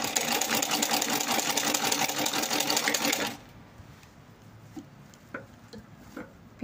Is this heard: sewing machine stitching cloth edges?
yes